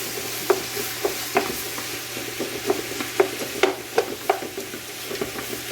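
Onions salted and frying in a pressure-canning pot for chicken curry, a steady soft sizzle under a regular series of scraping, knocking spoon strokes against the pot, close and clear with no talking.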